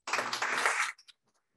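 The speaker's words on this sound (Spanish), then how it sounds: "Un aplauso, por favor." A short burst of audience applause at a conference, a dense flurry of clapping hands lasting under a second that cuts off abruptly, followed by a couple of faint stray claps and quiet.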